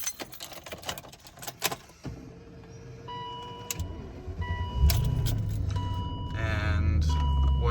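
Keys jangle and click in the ignition of a BMW E38 740i with a manual swap, then the engine cranks and catches into a steady, building idle rumble, close and fairly loud with no talk.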